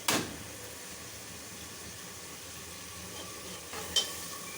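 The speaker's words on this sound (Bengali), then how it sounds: "এখন মশলাটা কষানো হবে।" Spice masala sautéing in a pan for a mung dal dish with duck eggs, a faint continuous sizzle with a sharp clatter at the start and another light knock near the end.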